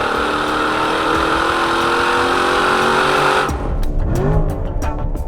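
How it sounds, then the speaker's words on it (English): A Chevrolet Stingray Corvette, a non-NPP car fitted with a Borla exhaust system, holds a loud, sustained high-rpm rev with a rising engine note, then the throttle snaps shut and the exhaust burbles and settles back toward idle. "this BORLA exhaust system on the Stingray Corvette"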